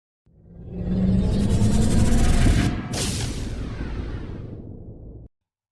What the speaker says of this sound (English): Please excuse the road noise.